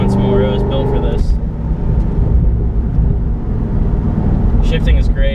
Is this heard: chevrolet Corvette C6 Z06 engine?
yes